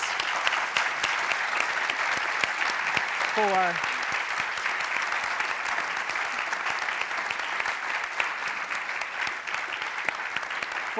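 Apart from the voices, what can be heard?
audience applause for panel discussion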